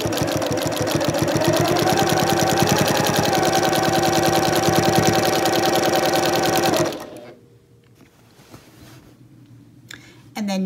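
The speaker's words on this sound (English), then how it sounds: "continue stitching until you get to the stitches where you started" A sewing machine stitches quilt binding onto the back of a quilt in a steady, loud, fast mechanical whir for about seven seconds, then stops, leaving quiet room sound and a brief clunk near the end.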